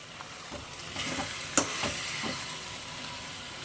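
Food frying and being stirred in a pan while biryani is made at home, a soft steady sizzle with scattered scraping and clinking of the spoon, one sharper clank near the middle.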